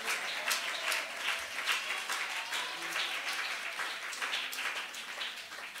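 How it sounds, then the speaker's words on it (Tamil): A church congregation claps in a sustained round of applause, dense and even throughout, with faint voices mixed in. "ஒரு பெரிய கைத்தட்டு கொடுத்துடலாமா ஏசப்பாவுக்கு?"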